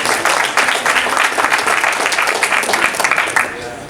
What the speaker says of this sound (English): So a big applause for my friend